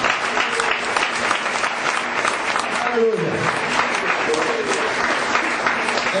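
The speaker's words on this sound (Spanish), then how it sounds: "Vamos a brindar un fuerte aplauso al Señor." A church congregation applauds loudly and steadily throughout a Spanish-language sermon on self-control as a fruit of the Spirit, with a voice calling out briefly partway through.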